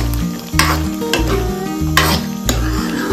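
Spices roasting in a pan for shahi paneer, a loud, continuous sizzle with rhythmic scraping and clanking of a spatula stirring every half second or so.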